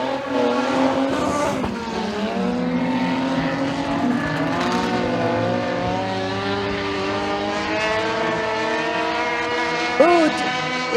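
Race cars circle a raceway oval during a heat race, engines droning loud and continuous with rising and falling pitch as cars pass, a brief tire chirp near the end, under a race announcer's voice.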